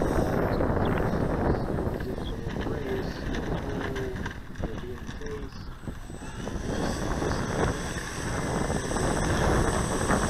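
A Multiplex PC-6 Pilatus Porter RC model plane doing touch and goes in gusty wind, its electric motor a steady drone under heavy wind buffeting on the microphone, rising and falling slightly as it passes.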